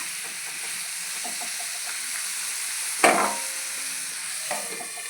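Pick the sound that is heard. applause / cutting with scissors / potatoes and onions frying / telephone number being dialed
potatoes and onions frying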